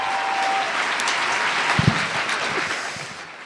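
A live audience at a French Gong Show taping claps in a short burst of applause that thins out and fades within a few seconds, with a couple of louder thumps partway through.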